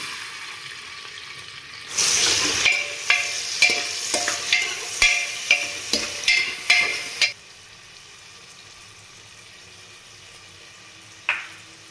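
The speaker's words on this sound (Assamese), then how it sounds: "এতিয়া ভালদৰে এখিনি লৰাই দিম পিয়াজখিনি দি দিম" Onions fry in a pan for egg biryani as a spoon scrapes and stirs them in about ten quick strokes over a few seconds, then the stirring stops and only a soft sizzle remains, with one last clink near the end.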